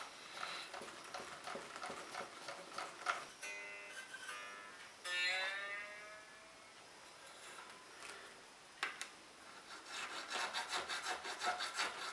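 A file cutting string slots in a Telecaster guitar nut, heard as close, light rasping strokes in uneven bursts, with a few short ringing string-like tones partway through.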